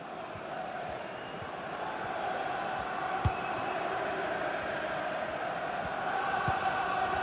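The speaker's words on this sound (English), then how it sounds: "The crowd certainly think so. Just listen to that noise." Stadium crowd at a Premier League match between Southampton and Wolves in the FIFA 22 video game, a continuous roar of spectators that swells gradually, with a few faint thuds.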